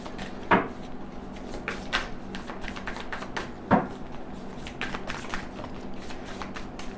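Tarot cards being shuffled, a few sharp riffles and card slaps among lighter papery rustles, close and moderately loud, with no talking.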